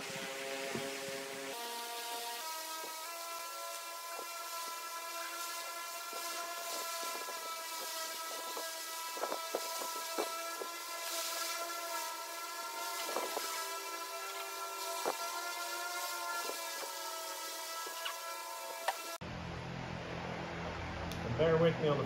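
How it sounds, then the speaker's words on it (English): An electric fan hums steadily in a garage while an S10 Blazer gets a roll pan installed, a constant tonal drone underneath with a few scattered clanks and some speech over it, cutting out near the end. "I got the fan running, so you might hear some background noise."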